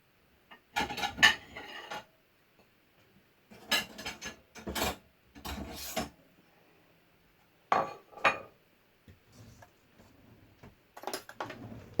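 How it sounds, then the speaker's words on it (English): A spoon clinks and scrapes against dishes while someone sets up to taste a banana cake with blueberry compote, with several separate bursts of close, light metallic rattling broken by quiet pauses. "Just get myself a spoon."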